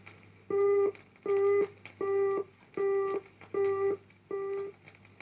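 A Post Office telephone service engaged tone: six evenly spaced beeps, each lasting about a third of a second, clear and steady on a quiet line.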